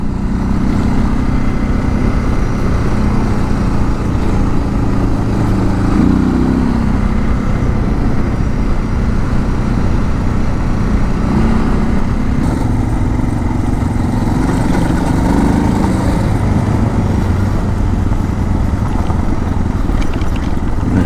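A Suzuki DR650 motorcycle riding off-road on dirt, its engine droning loud and continuous throughout, rising and falling slightly with the throttle, close to the microphone and heard alone without talk.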